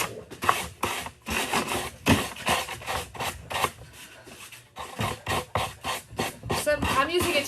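Hand sanding of a wooden vanity with 220-grit sandpaper, a steady rasping scratch in quick back-and-forth strokes, close and continuous with brief pauses between bursts.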